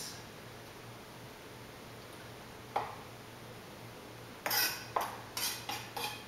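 Knife cutting tomato on a board while making pico de gallo salsa: one soft chop, then a quick run of four or five crisp knife strikes near the end, close and fairly quiet.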